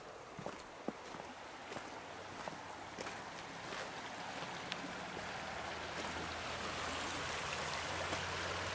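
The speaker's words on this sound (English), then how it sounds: "Pretty river." A river flows steadily through the woods near a road at night, a broad continuous wash of running water with a few faint clicks and rustles in the foreground and no talking.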